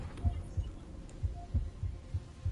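Regular heartbeat thumps in the Honkai Star Rail video game, meant to echo wall-building hammer strikes: about eight soft, low, evenly spaced beats over a faint hum, with no talk.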